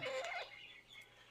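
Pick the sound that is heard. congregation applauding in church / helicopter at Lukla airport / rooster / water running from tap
rooster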